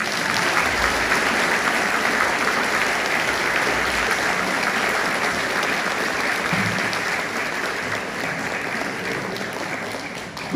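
A concert audience in Abbeville gives the singer a loud, dense round of applause, sustained and even throughout before tapering slightly at the end, with no talking over it.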